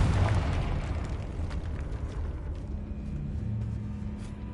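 Confringo fire spell blast in the Hogwarts Legacy video game, a loud, close rumbling explosion that hits at once and rolls on as a sustained low roar without fading.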